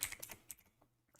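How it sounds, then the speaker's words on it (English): Quiet clicking of keys typed on a computer keyboard, a quick irregular run of close taps that slows and thins out, with no voices. "if the sound of the keyboard is annoying, sorry"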